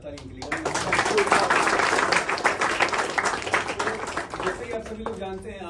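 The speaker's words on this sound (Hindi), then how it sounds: "एक बार जोरदार ताली के लिए।" An audience at a Hindi stage play on World Theatre Day claps loudly, a dense burst of many hands that swells and then gradually thins, mixed with crowd voices.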